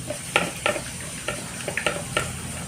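Acid slurry is stirred into a liquid soap mixture, giving a series of sharp, close clinks and scrapes against the container at an uneven rhythm over a soft, steady background.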